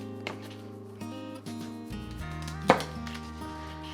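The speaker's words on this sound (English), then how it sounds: "And then from there, you can just chop up the celery." Celery stalks, stacked two together, cut with a knife on a board: a few separate chops spaced apart, one sharper knock near the end, with faint music underneath.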